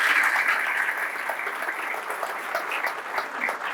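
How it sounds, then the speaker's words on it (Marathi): An audience claps loudly and steadily throughout, a dense continuous applause at an academy event honouring an MPSC state topper. "तर आपण सरांचं परत एकदा जोरात टाळ्या वाजवून"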